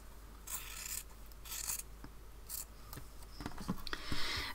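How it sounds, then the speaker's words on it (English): Scissors snip through a fabric scrap at close range, several separate crisp cuts spaced a second or so apart, then a run of quicker clicks and rustles as the piece comes free. "Cut this piece off and save that for something else"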